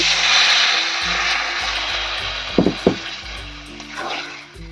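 Water poured into frying masala for green aloo dum, giving a loud, sustained sizzle and hiss, with a few sharp clatters midway and a low humming drone underneath.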